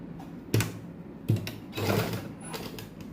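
Sewing machine stitching lace along the edge of a sleeve fabric, with a few brief clattering bursts of stitching separated by pauses and quiet handling noise, fairly close and soft.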